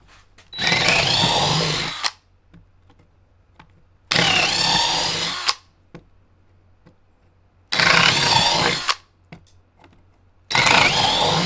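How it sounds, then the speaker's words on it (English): Power drill boring holes while a workbench is built, running in four loud sustained bursts of about one and a half seconds each, separated by near-silent pauses with faint clicks. "And I was told to start small drilling and then"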